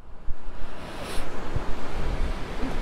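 Strong wind roars across the microphone during a breakfast motorbike ride in Malico, Pangasinan, a loud, continuous buffeting rush with irregular gusting thumps.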